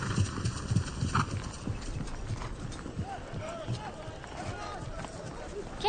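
Horse hooves clip-clop in a quick, steady rhythm at moderate distance, with voices talking over them and a brief whinny-like sound later.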